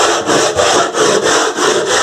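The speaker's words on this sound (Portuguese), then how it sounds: "Eu vou lixando, passando a mão com cuidado" Hand sanding of a wooden industrial-style table, rhythmic back-and-forth rasping strokes, close and loud, about six even passes with no talk.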